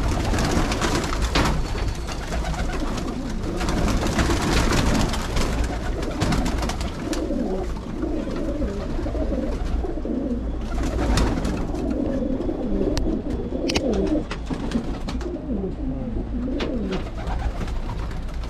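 Racing pigeons kept in a loft, older birds that have flown in races among them, coo continuously in a dense, overlapping chorus, close and steady throughout.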